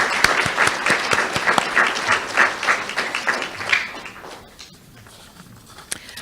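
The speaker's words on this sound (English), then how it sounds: "I still believe that they deserve a round of applause" Audience at a Board of Education meeting applauding, a close burst of dense clapping with sharp individual claps that thins out and fades after about four seconds, leaving a few scattered claps.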